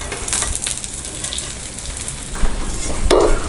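Oil sizzles around the edges of a bun omelette frying in a pan, a constant close crackle with a few light knocks and a louder clatter near the end.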